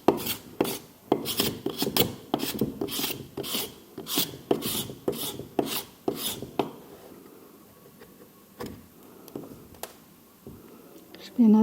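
Clay being scraped back from a plaster mould in a ceramics workshop, a run of rhythmic rasping strokes close by that give way to sparser scrapes and knocks, with a person talking over parts of it.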